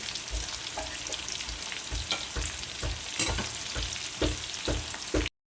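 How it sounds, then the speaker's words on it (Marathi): Soybean balls deep-frying in hot oil, a steady close sizzle with regular soft thuds and scrapes as the balls are stirred and turned, no voices. "तर हे आपले सोयाबीनचे बॉल्स तळून तयार झालेत"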